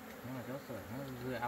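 Bees hum close by near a rack built for them to land on beside a pond, a steady, wavering buzz with pitch swells as insects pass near.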